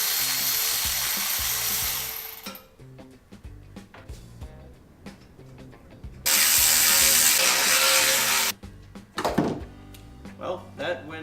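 A ratchet wrench clicks in quick bursts while loosening the muffler mounting hardware on a Honda Nighthawk S project motorcycle, the close, sharp pawl chatter starting and stopping between quieter pauses.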